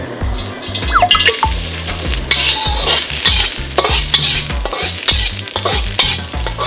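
Garlic fries in a little oil over a low gas flame in a home kitchen, cooked for a tom yum instant noodle dish. A steady close sizzle runs throughout, broken by spatula stirs, over a bass-heavy backing beat.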